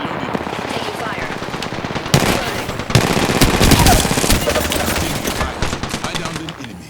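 Rapid automatic gunfire and bursts of shots in the battle royale game Apex Legends, loud and dense, intensifying into a sustained heavy exchange midway with overlapping bursts.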